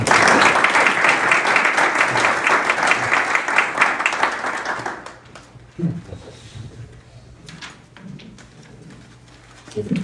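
An audience at a public-sector event at Tocumen gives a speaker a loud, dense round of applause for about five seconds, then the clapping fades to scattered claps, faint murmurs and room noise.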